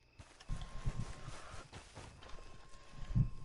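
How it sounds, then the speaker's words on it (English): Horse hooves clip-clop on the ground in the Red Dead Redemption Online video game, a faint, irregular run of soft thuds in a quiet scene. "I'm gonna call my horsey over here."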